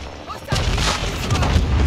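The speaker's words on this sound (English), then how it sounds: "Someone shooting at you" A burst of gunfire and a heavy boom in Call of Duty: Modern Warfare 2, loud and sudden after a brief quiet, followed by continuing rumbling shots and impacts.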